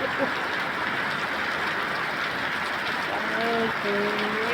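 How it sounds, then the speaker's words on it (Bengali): Dense, steady hiss of heavy rain in Dhaka pours continuously, with a brief voice-like tone near the end. "এই যে অনেক জোরে বৃষ্টি পড়েছে"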